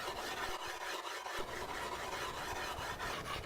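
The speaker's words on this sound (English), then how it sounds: "Now while I'm busy shaping this axe" An axe edge is ground with a gritty paste of sand and water, giving a steady, close scraping rub with rhythmic strokes and no talk.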